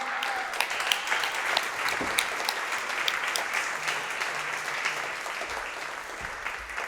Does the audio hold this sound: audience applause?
yes